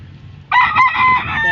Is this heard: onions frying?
no